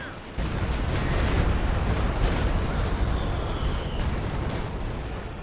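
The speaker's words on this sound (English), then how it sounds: "the Stuka gonna shoot on the left side" A Stuka dive bomber strike in a WWII strategy video game, a sustained roaring rumble of explosions and gunfire with a falling whine, loud and dense throughout, with commentary faintly underneath.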